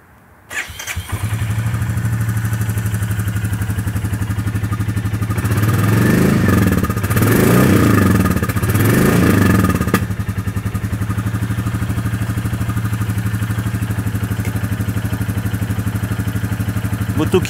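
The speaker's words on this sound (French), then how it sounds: "moto qui vibre énormément." Royal Enfield Classic 350 motorcycle starting up and settling into a steady, thumping single-cylinder idle close by, with a brief rev in the middle before returning to an even idle.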